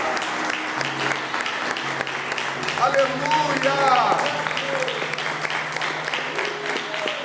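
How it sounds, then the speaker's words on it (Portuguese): A church congregation applauds strongly during an evening sermon, steady clapping rising and falling over a sustained low keyboard tone while a voice shouts out over the crowd. "Vamos aplaudir o Senhor bem forte nesta noite."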